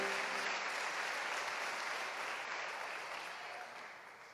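A church congregation applauding: broad, dense clapping that holds steady and then tapers slightly toward the end, heard at a moderate distance with no clear voices.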